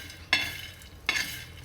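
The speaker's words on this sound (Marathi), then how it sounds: "हे गावरान फुटाणे छान असं तेल टाकून भाजून घ्यायचे." Chickpeas roasting in oil in a pan, stirred twice with a spoon, each stir giving a short scraping rustle over a faint sizzle, close and moderately quiet, with no talking.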